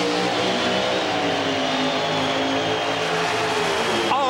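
A 1,200-horsepower, 500-cubic-inch carbureted Pro Stock drag racing car on racing gasoline at the 1991 NHRA Summernationals in Englishtown, a loud sustained high-revving engine roar that holds steady throughout.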